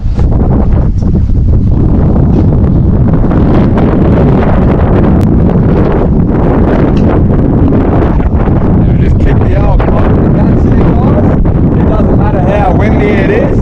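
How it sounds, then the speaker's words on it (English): Strong wind buffets the microphone on the shore of Lake Proserpine, roaring continuously and loud throughout, with brief voices and faint handling noises mixed under the gusts. "Windy it is"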